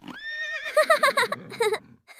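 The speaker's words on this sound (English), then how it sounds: "H is for horse" A horse whinnies loudly and clearly, a long rising call that breaks into a shaky descending neigh, heard alone with no talk.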